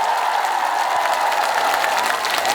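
An outdoor audience at a provincial farm successors' convention in Boeun, Korea, applauds a singer. The clapping is dense and steady and holds a sustained roar throughout.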